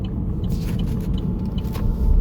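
A car drives along with a steady, heavy low road rumble filling the cabin, a few faint ticks and rattles over it, and a slight swell at the end; no talk.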